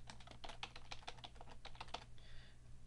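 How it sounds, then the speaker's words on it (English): Fingers type rapidly on a computer keyboard, a quick irregular run of light clicking keystrokes, close and quiet, with a brief softer rustle at the end. "Now you see this time when I type in my name"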